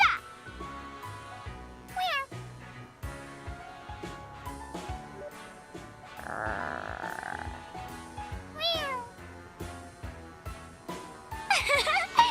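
A cat meows several times in the Trails to Azure video game, short rising cries layered over steady game music and ambient tones, with brief spoken voice clips mixed in.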